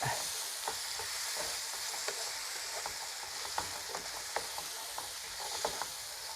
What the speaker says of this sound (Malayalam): ഇനി ഇത് നന്നായിട്ടൊന്ന് മിക്സ് ചെയ്യുക